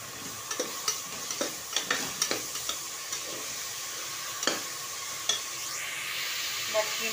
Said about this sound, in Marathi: आणि आता ही मटकी टाकून घेते.